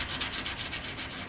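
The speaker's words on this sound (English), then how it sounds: "And we'll try sanding." Abrasive paper rubs back and forth across a rusty surface in quick, steady rasping strokes, close and continuous, with no talking.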